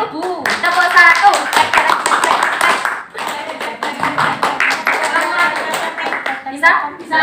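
Class of students in a microteaching session claps a rhythmic pattern together, sharp group claps mixed with loud children's chanting and talk throughout.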